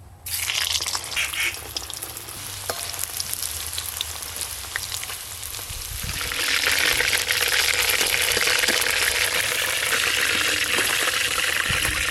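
Momos deep-frying a second time in hot oil, a steady dense sizzle that swells louder about halfway through and holds at a close, continuous roar with no talking.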